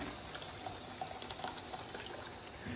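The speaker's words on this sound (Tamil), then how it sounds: "இப்போ புளி தண்ணி ஊற்றிடலாம்." Tamarind water pours and sizzles into a hot pan for eggplant curry, a soft hissing wash with small crackles and bubbling pops, close by and steady throughout.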